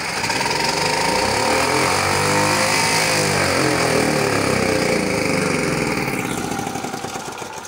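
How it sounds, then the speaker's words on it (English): A 3.5 kVA generator with a governor speed fault runs loud and continuous nearby, its engine note surging and wavering in speed before easing slightly at the end. "So I'm going to put on this gen right now for you to hear the speed and the voltage of the generator."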